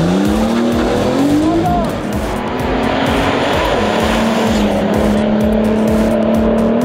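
A Subaru Impreza roars through a drag race run, its engine note climbing loud and strained against steady crowd and track noise.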